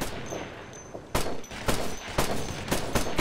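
Rifle fire in the video game Operation Flashpoint: Red River, several sharp shots in an uneven burst, loud and close, with softer distant reports in between.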